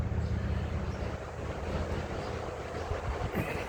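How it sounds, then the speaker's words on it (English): Outdoors, a gust of wind blows across the microphone as a steady, rumbling low roar that swells and eases slightly, fairly loud and heard alone without talk. "Let me wait for this wind to go by."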